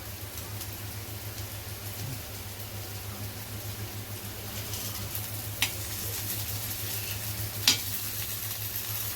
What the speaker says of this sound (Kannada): ಈ ಥರ ಇದು ಎರಡು ಸೈಡು ನೀಟಾಗಿ ಫ್ರೈ ಆಗಬೇಕು